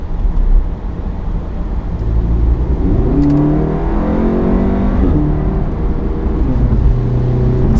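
A VW Golf Mk7 R in eco mode accelerating hard, its loud, close engine note climbing and then dropping back with each gear change, with no talking.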